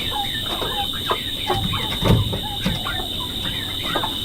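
Several chickens cluck softly and repeatedly nearby at night while being moved, with a steady high electrical whine in the background.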